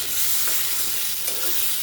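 Mixed vegetables with turmeric and salt fry in hot oil, giving a dense, continuous bright sizzle close by that stays loud and even throughout with no voices.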